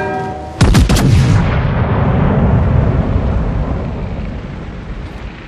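Battleship Thunderer's heavy main guns fire in World of Warships, a rapid close salvo of loud booms followed by a long rumbling roar that slowly fades, no talking.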